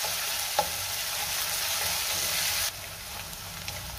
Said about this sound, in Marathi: कांदा आपल्याला हलक्या गुलाबी रंगावर परतून घ्यायचा आहे।